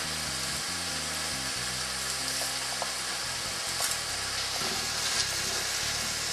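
Onions frying in olive oil and butter give off a steady, close sizzle with a constant hiss, plus occasional stirring clicks and a low hum underneath.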